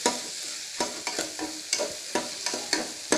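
Crushed garlic sizzles in hot oil for a tempering, a sharp frying hiss broken by repeated stirring scrapes in a quick, regular rhythm, close up with no talk.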